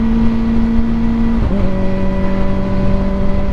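Kawasaki Ninja ZX4RR motorcycle engine running at night, a steady high-pitched engine tone that steps up sharply about halfway through and holds at the higher pitch, loud and close with no talking.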